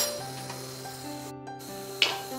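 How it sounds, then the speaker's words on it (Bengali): Whole cumin seeds crackle in hot mustard oil in a pan: a steady close sizzle with small scattered pops and one sharper snap near the end, with no talk. "জিরেটা বেশ ভালো করে ফেটে উঠেছে"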